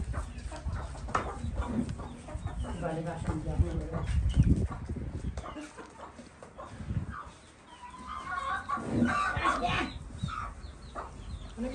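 Chickens clucking on a farm near a house under construction, soft intermittent clucks mixed with people talking nearby and some background noise.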